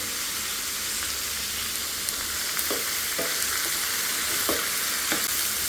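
Beetroot palya sizzles and fries in a pan while a spoon stirs it after salt is added, a steady close hiss with a few soft scraping clicks.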